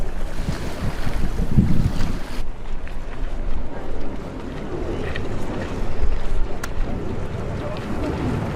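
Strong wind buffets the microphone at an IOM radio-controlled model yacht world championship race by the water, a steady, loud roar with waves beneath and faint voices in the background.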